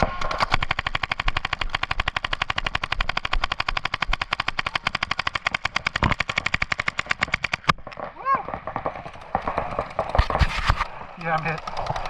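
Rapid paintball gun fire, a dense run of sharp regular shots for about eight seconds, then a few scattered pops and talking outdoors on a paintball field.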